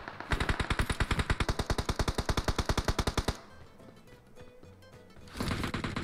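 Automatic gunfire fires in PUBG Mobile, a long rapid burst of evenly spaced loud shots for about three seconds, then quieter background game noise before another volley starts at the end.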